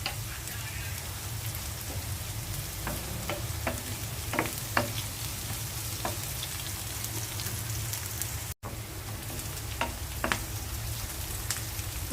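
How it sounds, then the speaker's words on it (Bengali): Onions and green chilies fry steadily in a pan of oil, a dense continuous sizzle with occasional scraping stirs, close and even throughout. "পেঁয়াজটা ভেজে নিচ্ছি। পেঁয়াজের মধ্যে দিয়ে দিচ্ছি আমি কাঁচামরিচ"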